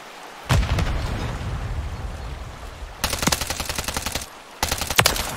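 Call of Duty: Modern Warfare III firefight with a grenade blast and loud rapid bursts of automatic gunfire, an initial boom followed by sustained rattling and two later sharp volleys separated by a short lull.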